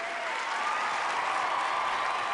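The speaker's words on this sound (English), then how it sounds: "the crowd is on fire, roaring at the tremendous show they're putting on" A film crowd roars and applauds a dance performance, producing a dense, steady wall of clapping and cheering that stays loud and close throughout.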